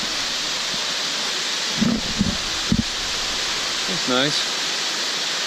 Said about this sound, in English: Waterfall number 4.